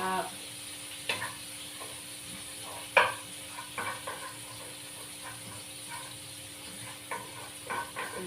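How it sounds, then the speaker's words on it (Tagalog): Six spicy buffalo chicken wings sizzle quietly in a pan, a steady soft frying hiss broken by occasional stirring clinks and scrapes. "Lutom na ako sa aking 6 spicy buffalo chicken wings."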